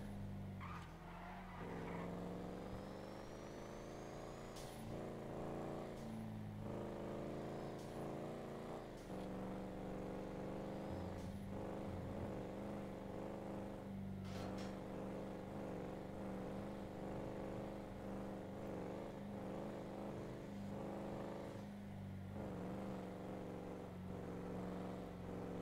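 Car engine in a GTA roleplay driving game slowing down and then revving back up, a continuous loud engine drone with gear shifts and tire noise throughout, no talk.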